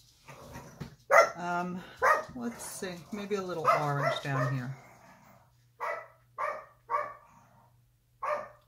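A person talks for several seconds, then a dog barks four times at a steady pace, fairly near, with a faint hum underneath.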